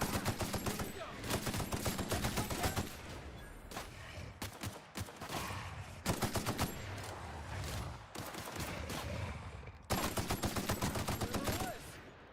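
Rapid bursts of gunfire from a firefight in the sci-fi game The Outer Worlds, dense volleys of shots crackling in clusters with brief pauses, loud and close throughout.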